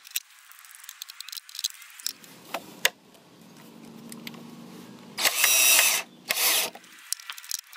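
A power drill fitted with a chuck clamped around a screw drives it into a raised bed frame. Scattered clicks and handling noise lead into a low motor whir, then two loud, close bursts of grinding drive.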